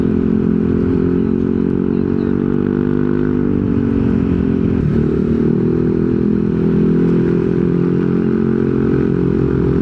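Yamaha Nmax Techmax Turbo scooter fitted with a VMAX Racing Onyx aftermarket muffler, a steady low exhaust drone at idle, close and continuous, with a slight dip and recovery midway.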